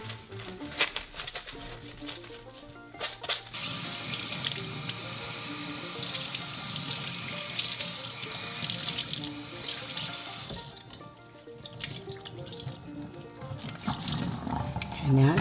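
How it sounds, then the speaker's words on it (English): A kitchen or bathroom tap runs steadily as a curly 9-inch hairpiece is rinsed under it, the water rushing and splashing close by with small shifts as the hair is worked through the stream, no talking. "Now it's nice and rinsed."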